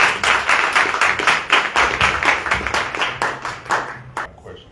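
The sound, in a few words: audience applause for candidates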